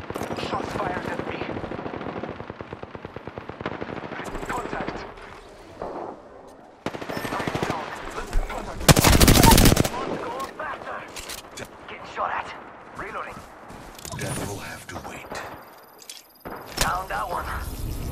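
Gunfire in Apex Legends during a battle royale fight: bursts of automatic weapon fire rattle through a busy mix of game effects and callouts, with a loud, dense volley midway and scattered shots around it.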